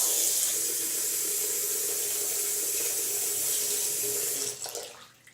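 Water runs steadily from a tap into a container for a solar-powered LED camp light, a continuous close splashing hiss that cuts off near the end.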